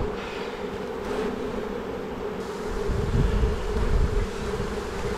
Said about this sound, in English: Seen a lot of drones in there. Haven't seen Mama yet, but a lot of bees here.